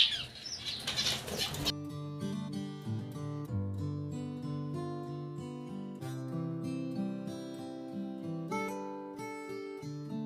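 Pet cockatiels and budgies flutter their wings in a quick, close, rustling burst lasting under two seconds, then background music with sustained tones takes over.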